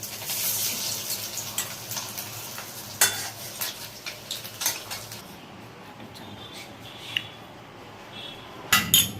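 Frying chilli egg dish stirred in a pan as it cooks until reddish, soft sizzling under repeated scraping and clinks of a spatula, close by, quieter sizzle toward the end.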